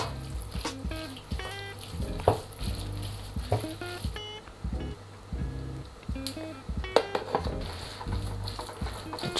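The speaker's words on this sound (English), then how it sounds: "Just give it a good stir." A pot of jollof rice soaked in sauce being stirred, with soft wet scraping and a few sharper clinks of the spoon against the pot rim, moderately quiet and irregular, without speech.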